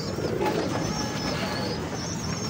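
Pigeons cooing close by in a loft, soft repeated throaty coos layered over a steady background murmur, with no speech.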